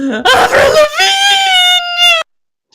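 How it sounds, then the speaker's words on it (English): A character in the video game Danganronpa 2 lets out a loud, drawn-out wailing scream with a steady high pitch, lasting about two seconds before cutting off abruptly into silence. "I love that scream."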